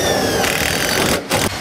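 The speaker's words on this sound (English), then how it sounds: "Screws in." A power driver running screws into wooden rails for a homemade pickup truck tonneau cover produces a loud, close whirring grind, with a brief pause before the motor starts again.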